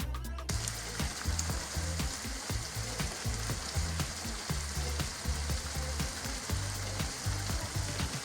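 Chicken cubes sizzling in a hot pan for an Arabian dish, a steady close-up crackle with frequent soft pops and stirring, no voices over it.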